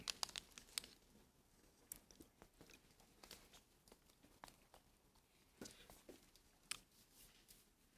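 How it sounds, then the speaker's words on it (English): Bible pages rustle and crinkle as a congregation turns to a passage, with scattered soft flips and crinkles at varying distances and no talking. "I still hear pages turning"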